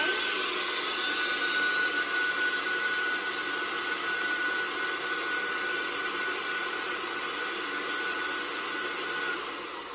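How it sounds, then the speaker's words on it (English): A loud, steady whooshing roar of a vacuum forming machine's suction motor, making dental whitening trays, with a high-pitched whine runs continuously, easing slightly at the end. "And so she will turn the vacuum on, unlock the sliding tray."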